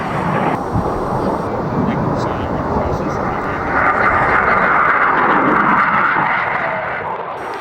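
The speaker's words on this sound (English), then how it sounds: "Piloted by 34-year-old Derek Sington, the supersonic Jaguar." A supersonic Jaguar jet flying a display at an airshow in Ulster, its engine a loud, sustained roar that swells midway, with an announcer talking over it.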